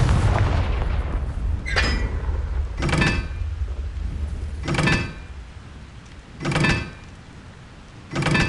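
Confringo fire spell blasts cast repeatedly in Hogwarts Legacy, about six sharp whooshing bursts spaced roughly a second or two apart, each a short loud flare of noise over a low rumbling background.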